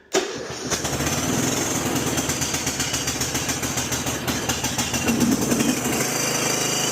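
A small engine on a garden tractor used for plowing catches after the choke is set, sputtering briefly then settling into a loud, steady chugging idle nearby.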